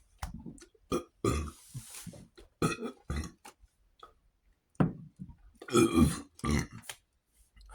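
Small, muffled burps come after a large meal of chicken ramen, salmon and potatoes, a series of short throaty gulps and croaks separated by silences, close and fairly quiet.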